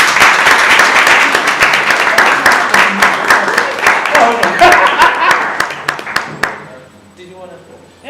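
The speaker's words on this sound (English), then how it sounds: "So thank you, and applause to James." Audience applause at the close of an afternoon talk event, a dense wash of many hands clapping loudly and steadily, then thinning out and fading to quiet in the last seconds.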